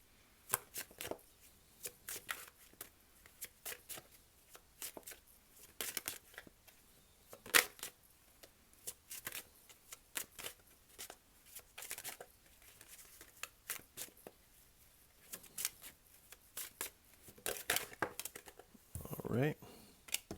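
A tarot card deck is handled and shuffled in quick, dry riffles and taps, quiet and close, in bursts spread across the whole stretch, ending with a brief louder flurry.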